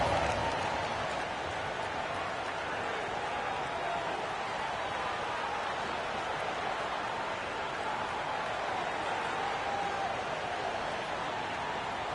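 Continuous crowd applause in an NBA 2K26 basketball video game on PS5, a dense wash of clapping and cheering that holds steady throughout without pausing.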